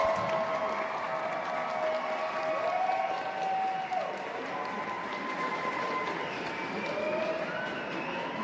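Nintendo staff applaud visitors as the doors open at a Nintendo Experience Switch 2 event, a steady wash of clapping and crowd noise with a voice talking over it.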